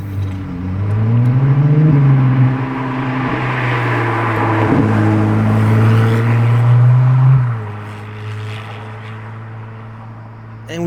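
A Ferrari 296 Speciale prototype in Verde Nürburgring revs up loud and close in Maranello, holding a high engine note for several seconds before dropping off to a lower idle.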